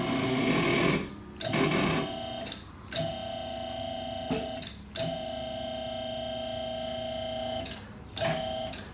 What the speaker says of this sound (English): We're gonna go up with the quick jacks.